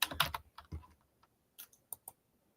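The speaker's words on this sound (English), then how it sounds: "I'm just going to type this in and pop it up" Computer keyboard typing in short bursts of clicky keystrokes, loud at first, then a pause and a few scattered taps, close and alone with no talk.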